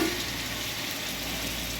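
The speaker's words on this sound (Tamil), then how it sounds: "தக்காளி நல்லா வதங்கட்டும்." Ginger garlic paste and tomatoes sautéing in a pan for dum biryani, giving a steady, dense sizzle that stays even and close throughout, with no voices.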